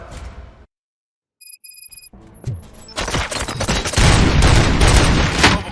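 Gunfire in the RoboCop: Rogue City video game: after a near-silent gap and a few electronic tones, loud bursts of rapid shots build into a dense, continuous fusillade that grows louder toward the end.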